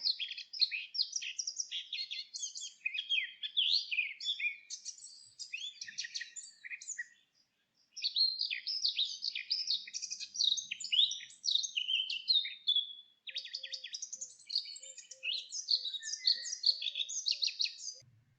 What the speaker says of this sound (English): Blackcaps have a rich, strong and more varied, bubbly and fluty warble